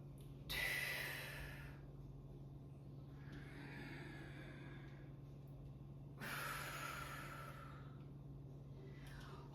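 Two heavy breaths during a weighted workout, each a loud rushing inhale or exhale a few seconds apart, with softer breathing between them over a low steady hum.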